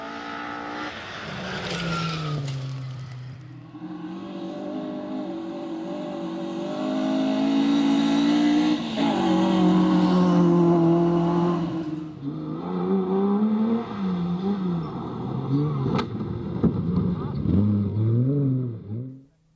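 Historic Sunbeam rally car with a new, more powerful engine pushing hard on fast forest stages in Speyside, its engine loudly revving up and down through gear changes, with brief tire noise.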